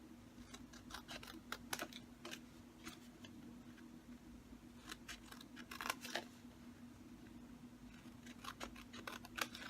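Scissors snip repeatedly through paper while a slider box treat holder is cut out, the sharp cuts coming in quick clusters with short pauses over a steady low hum.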